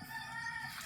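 Farm chickens clucking faintly in a brief, steady stretch of outdoor background noise.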